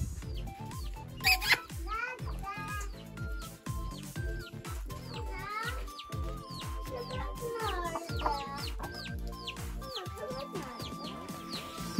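A hen clucks while chicks peep in rapid, high chirps throughout, close by, with people talking over them.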